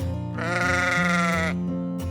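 A goat bleats loudly and close by, one long wavering call flanked by shorter bleats, with no talk over it.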